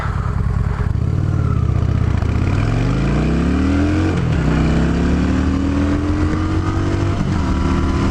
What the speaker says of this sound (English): I'll show you maybe a 0 to 65 pull on this thing